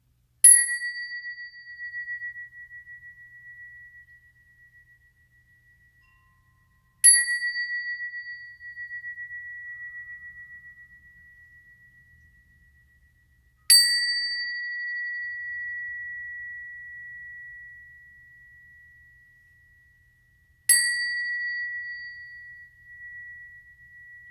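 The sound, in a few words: bells ringing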